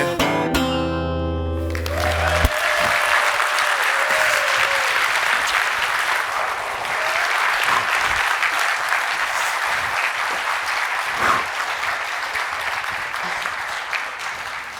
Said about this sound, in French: et merci d'avoir applaudi